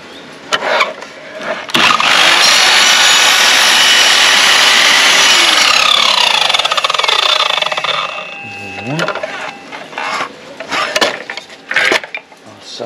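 A power tool cuts wood along marked lines on a new terrace build, a loud sustained whine for about six seconds that then winds down into quieter handling knocks and brief talk.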